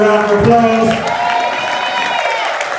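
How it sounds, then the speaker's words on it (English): An audience at a South Florida Fine Arts Academy event applauds and cheers for its young people. The crowd noise is loud and sustained, with whoops and voices mixed into the clapping. "Can you give our young people another round of applause?"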